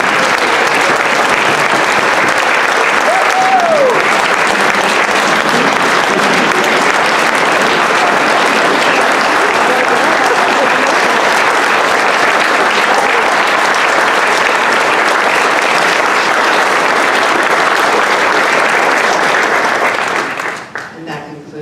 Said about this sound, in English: let's give it up for our wonderful honorees